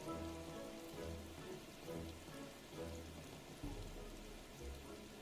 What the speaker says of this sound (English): it's raining in the game and it's literally belting it down in real life as well